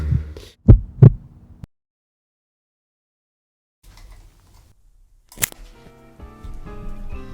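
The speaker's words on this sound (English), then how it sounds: "I could hear the sound of my heart beating and air flowing through me." Two strong heartbeat thumps sound close together near the start, followed by silence and later some faint rumbling and a sharp burst.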